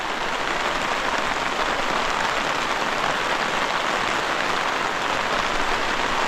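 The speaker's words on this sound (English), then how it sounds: "Little showers pop up, just kind of spring up out of nowhere." Steady spring rain shower falling on a remote mountain campsite, a dense even hiss of drops pattering on surfaces with no pauses, close and fairly loud throughout.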